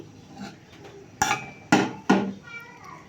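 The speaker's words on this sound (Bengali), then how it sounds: "তো পাঁচ মিনিট পরে আমি ঢাকনাটি একটু অন করে দিচ্ছি" A metal lid is set down on a cooking pot while chhana is being prepared, giving three sharp clanks about half a second apart, close and fairly loud against a quiet kitchen background.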